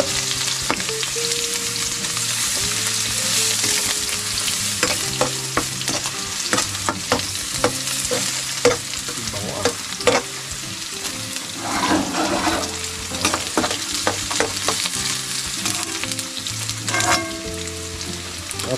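Ginger sizzling in hot cooking oil in a pan for laing, a steady close fry with scattered sharp stirring clatters and scrapes.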